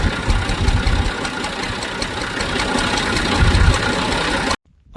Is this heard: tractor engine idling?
yes